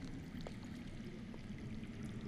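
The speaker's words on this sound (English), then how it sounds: "I hear water. From underground." Water flowing underground in the Game of Thrones Telltale video game, a faint, steady low rushing murmur like a hidden stream, continuous and distant with no speech.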